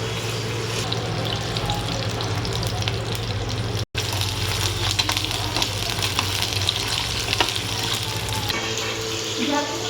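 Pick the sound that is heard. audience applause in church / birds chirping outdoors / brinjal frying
brinjal frying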